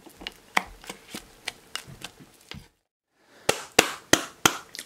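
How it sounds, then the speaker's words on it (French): An apple cake pan with spiced speculoos filling and batter on top, tapped sharply against a surface in two bursts of evenly spaced knocks separated by a brief silence, close and distinct, no voices. "On tapote un petit peu la poêle pour répartir donc toute la garniture à l'intérieur"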